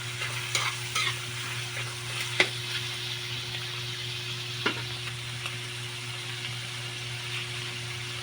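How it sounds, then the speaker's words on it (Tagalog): Steady sizzling of pork innards frying in a pan until crispy, with a few sharp clicks and scrapes of stirring, close up and continuous. "I-prito natin siya hanggang sa parang crispy na siya."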